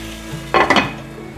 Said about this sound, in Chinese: 拌一拌，再继续盖锅盖